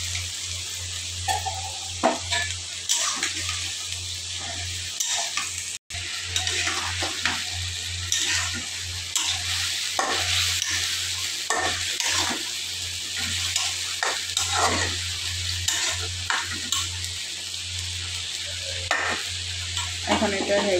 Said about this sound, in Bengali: আর আলু দিয়ে দেবো